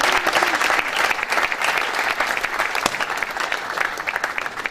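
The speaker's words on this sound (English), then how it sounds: "Let's give them a round of applause," An audience at a 2013 graduation ceremony for CBSS graduates gives a steady, full round of applause, with many hands clapping continuously and filling the hall for the whole stretch.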